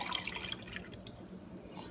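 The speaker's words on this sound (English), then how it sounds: "you're going to pour this right back into your measuring cup" Water solution for treating aquarium fish being poured into a measuring cup, giving a quiet trickling and splashing that is brightest at the start and then settles into a soft steady flow.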